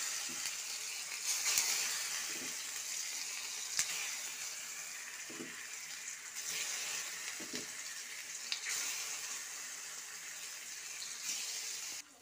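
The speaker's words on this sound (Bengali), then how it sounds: "পরে এখানে তেল গরম করতে দিয়ে দিয়েছি, তেলের ভিতরে দিয়ে দেবো" Pieces of food coated in white mustard paste and chili powder frying in hot oil, a steady soft sizzle with occasional faint clinks and pops, heard alone without voices.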